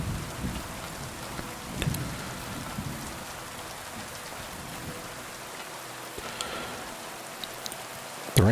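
Steady rain patters across the whole stretch in the video game Kingdom Come 2, with low rumbles of thunder rolling in the background and a sharper crack near the end.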